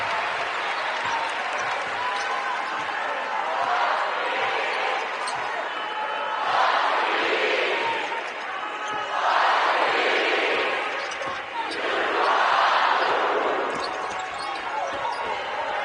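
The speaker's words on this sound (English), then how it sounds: "Oh, what a terrific atmosphere, by the way. Sellout crowd tonight. Making a lot of noise." A sellout crowd fills a basketball arena during a 2023 NCAA Tournament second-round game between UConn and Baylor, its roar steady throughout and rising in several loud swells, with courtside bounces and squeaks mixed in.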